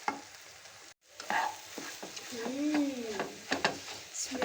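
An egg and bread poha mixture sizzles in a frying pan while being stirred and pressed down, with scraping strokes and soft clinks over a steady frying hiss.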